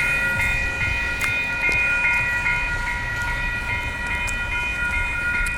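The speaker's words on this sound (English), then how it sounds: "And the train's gonna be departing now." A Kapiti Line train in Wellington pulls away from a level crossing, a loud, steady rumble of rail cars with sustained tonal whine and squeal running throughout, close by and alone without talk.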